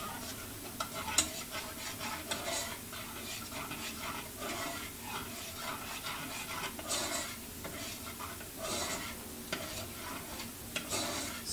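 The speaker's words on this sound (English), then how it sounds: "Let me stir my orange sauce here a little bit." An orange sauce for orange chicken, thickened and starting to boil, is stirred in a pan, giving a steady bubbling sizzle with soft scraping and occasional spoon ticks throughout.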